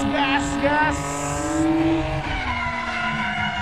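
Drift car at full throttle in an Indonesian Drift Series rookie-class qualifying run, engine screaming with long tire squeals, loud and close, while a commentator talks over it.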